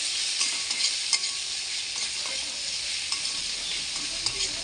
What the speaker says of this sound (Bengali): 1 চামচ লঙ্কা গুঁড়ো দিয়ে মশলাটাকে মিক্স করে এবার মিক্স করে নেব।